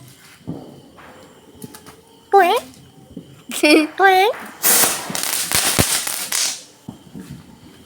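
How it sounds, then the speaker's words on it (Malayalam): Small mustard firecrackers crackle and pop in a quick burst of sharp snaps, with a voice and a bird-like chirp heard earlier, during a family Vishu celebration. "നമ്മള് കടുക് വെടി കത്തിക്കുന്നു."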